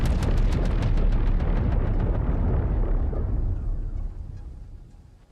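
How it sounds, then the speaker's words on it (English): An explosive detonates in the Satisfactory video game, a loud booming blast with a rumbling roar that holds for a few seconds before fading away. "We will jump, detonate."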